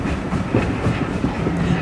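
A steam locomotive from Thomas and Friends rolls along, its wheels clicking steadily over the rail joints with a loud, continuous rumble close by, and no voices.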